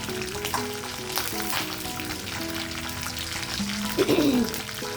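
Cumin, mustard seeds and dried red chillies frying in hot oil, a steady close sizzle with scattered crackles and a brief tonal scrape near the end, no speech.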